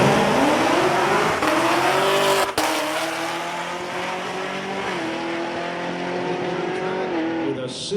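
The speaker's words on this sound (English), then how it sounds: "Camaro here in the right lane, getting ready to go" A Camaro launches down a drag strip, its engine screaming up through rising gears in a loud, close run with a sharp shift break early on, unaccompanied by voices.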